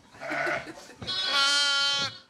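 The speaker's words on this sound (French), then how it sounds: "Les agneaux venus en camion retrouvent leur mère." Ewes and lambs bleat close by at dusk near Tarascon during lambing season, a lower wavering call followed by a longer, louder, higher bleat, with no voices.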